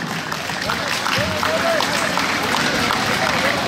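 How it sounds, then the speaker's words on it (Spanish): Audience applause and crowd noise at a bull-riding show in Arkansas roll on as a loud, steady wash, with an announcer's voice over the clapping. "Venga fuerte el aplauso."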